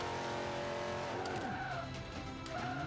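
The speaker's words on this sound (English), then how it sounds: "Oh, the brakes are locking up." Tires squeal and skid as a heavy GMC van's brakes lock up in the Forza 5 racing game, a loud engine drone underneath with gliding, sweeping screech tones running continuously throughout.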